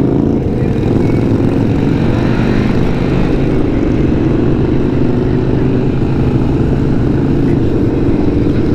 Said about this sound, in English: I'm getting beat with wind at whatever mile an hour you're going